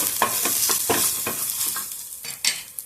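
Red chilies, cut in two, sautéed in a pan for fresh red chili garlic chutney: a close, loud run of quick scraping stirs over a crackling sizzle, regular strokes that thin out toward the end.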